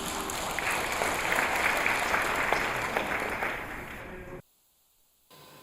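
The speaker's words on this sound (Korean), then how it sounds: "우리 큰 박수로 환영해 주시기 바랍니다" An audience claps for a church service speaker being welcomed to the stage, steady full applause that cuts off abruptly into near silence before low room sound returns.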